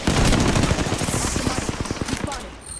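Rapid automatic gunfire in the shooter game Apex Legends, a loud, fast rattling burst of shots that runs steadily for nearly three seconds, then tapers off at the end.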